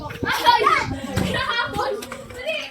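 Children play and chatter outdoors at a family outing at a camping site, their lively voices and scattered calls close by and continuous, with light knocks and bumps mixed in.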